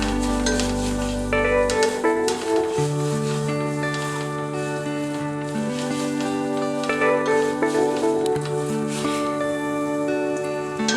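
White sauce pasta base sizzling in a pan over a low flame, a steady, continuous crackle that holds at an even level throughout.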